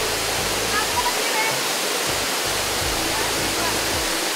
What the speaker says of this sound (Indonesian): Dan itu yang disebut dengan air terjun Ringin Jengkot.